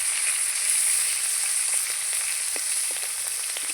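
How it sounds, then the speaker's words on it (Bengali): Hilsa fish heads crackling in hot oil, a continuous close sizzle with scattered pops and spits over about four seconds, no voices. "আমার ইলিশ মাছের মাথা খুব সুন্দর করে ভাজা হয়ে গেছে"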